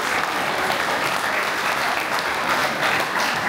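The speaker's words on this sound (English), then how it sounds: "Let's give them a clap for that." Steady, dense applause from a large audience at an evening awards gathering in Australia, honoring an Order of Australia recipient, sustained at an even level throughout.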